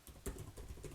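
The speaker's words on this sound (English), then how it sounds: "So let's type in to Publisher Rocket" Quick keystrokes on a computer keyboard while a search term goes into keyword research software, a short run of soft, close clicks at moderate level with no talking.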